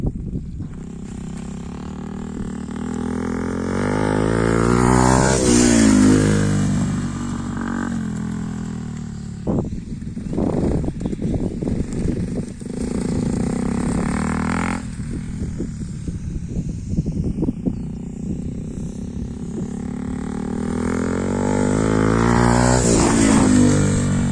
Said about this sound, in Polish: ten motor Yamaha y, WR125R y